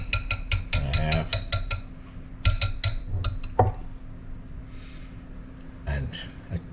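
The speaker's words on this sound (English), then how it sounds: "I've been whisking for just about a minute and a half." Deviled egg filling whisked in a bowl, a run of quick, bright metallic clicks and taps against the bowl in rapid bursts, pausing and resuming, close and fairly loud.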